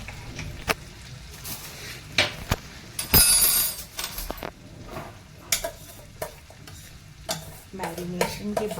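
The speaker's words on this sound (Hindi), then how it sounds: "अपनी कलछी से अच्छी तरह से सारे मसाले आलू के साथ जो है उसको" A ladle stirs spiced potatoes in a sauce pan, with soft frying sizzle under repeated scraping knocks and clinks against the pan, close and fairly loud.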